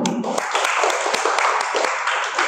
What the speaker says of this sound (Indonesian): Beri aplaus sekali lagi untuk kelompok 3.